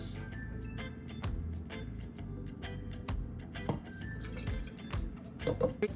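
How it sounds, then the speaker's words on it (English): Almond milk pours into a blender over bananas for a milkshake, a run of close, drippy splashes and glugs with a few sharper ticks, steady throughout. "Then I'm gonna add a cup of almond milk"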